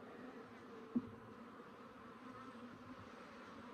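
Cordovan Italian/Africanized hybrid honeybees buzz inside a hive with foundation frames. The hum is faint and steady, with one soft knock partway through and no talking.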